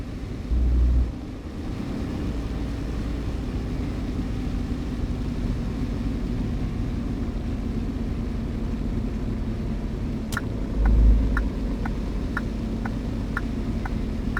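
Steady rain and a low truck engine rumble in a truck-driving video game, a continuous wash of sound with a brief thump early on and a run of regular clicks near the end.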